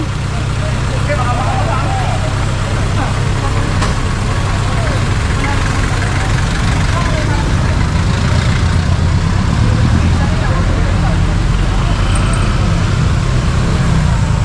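Busy roadway during a street clearing operation, with a loud continuous rumble of idling and passing cars and trucks close by, and faint speech blending into the traffic.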